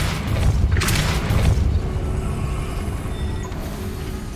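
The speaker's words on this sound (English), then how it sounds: "So we'll just depulso these guys" Depulso spell cast at enemy targets in the Hogwarts Legacy video game: a loud, rumbling boom with a bright crackling burst near the start, fading into a low sustained roar.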